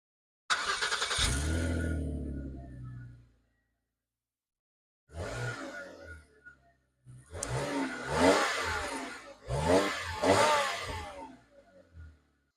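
A 2003 Jaguar X-Type engine starts and idles, then revs up in several strong bursts, each rising and falling back, with quiet pauses between them.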